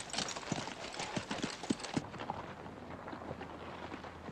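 Cavalry horses led on foot by dismounted riders, their hooves clip-clopping in an irregular walking rhythm at moderate distance, strongest in the first two seconds before fading into a softer, muffled background.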